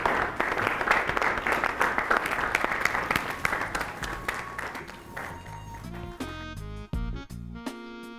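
An audience claps warmly on stage to welcome a speaker, a loud, dense burst of applause that thins into scattered, fading claps toward the end.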